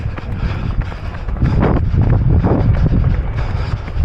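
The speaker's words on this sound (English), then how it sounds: "we're currently running into a bit of a headwind" Strong headwind buffets the microphone of a runner during a 10K road race, a loud continuous low rumble with gusting swells that strengthen midway, no voices.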